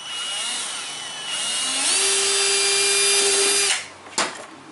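A power drill bores a small hole in a 20-litre plastic jug: a loud, close motor whine that rises in pitch and holds steady, then cuts off, followed by a brief knock.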